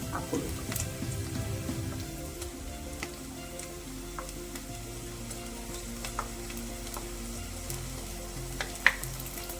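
Ground masala for chicken curry sizzles softly in a pan, a steady close crackle with occasional small pops and a brief stirring scrape at the start.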